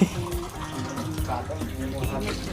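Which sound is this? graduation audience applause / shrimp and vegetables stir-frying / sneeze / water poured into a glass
water poured into a glass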